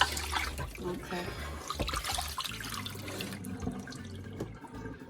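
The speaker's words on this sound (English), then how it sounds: "let's get the water in it right now" Tap water pours into a pot of oxtail already soaked in vinegar, prepared for Jamaican stew peas. A steady, close splashing rush runs throughout, with a brief spoken word.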